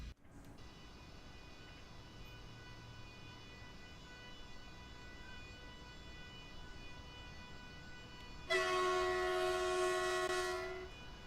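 A train passes in Train Sim World on the Stuttgart–Heilbronn line, a steady rail rumble that a loud horn blast joins near the end and holds for several seconds.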